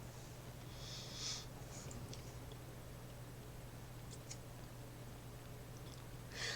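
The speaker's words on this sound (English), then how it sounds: "Sniffing this can is not the same as sniffing a Red Bull can" A person sniffs at an empty drink can, giving a few short, soft breathy snorts spaced several seconds apart over a steady low hum.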